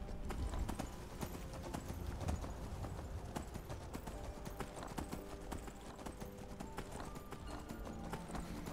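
A horse gallops in Skyrim with continuous, rapid hoof clip-clops at a steady pace, loud and close, mixed with game ambience and a brief whinny.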